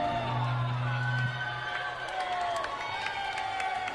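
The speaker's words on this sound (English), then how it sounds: "the crowd here is ecstatic" A wrestling crowd roars and cheers ecstatically right after Tequila Rose pins Sammi Lane in a women's match, a loud sustained wall of whoops and shouts with a low horn-like tone early on.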